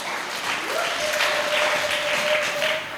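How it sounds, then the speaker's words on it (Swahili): A church congregation applauds loudly and continuously for about three seconds, with a sustained high ululating cry running through the clapping. "Pigia Yesu makofi ya shangwe na vigelegele"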